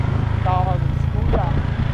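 Motorcycle ride toward Tumalog Falls in Oslob, Cebu, with a steady low engine drone and wind rumble running throughout, loud and close, while people talk over it.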